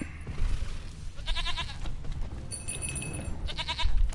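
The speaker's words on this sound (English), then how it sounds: "Goat." A goat bleats in the Witcher 3 game world, several clear harmonic bleats in two bursts over steady low ambient rumble and background noise.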